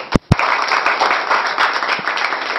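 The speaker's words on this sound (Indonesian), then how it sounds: "semuanya tepuk tangan untuk kita semuanya people" After two sharp knocks, an audience at the Al Barokah Nganjuk broadcasting simulation event bursts into sustained, fairly loud clapping, a dense even wash of many hands.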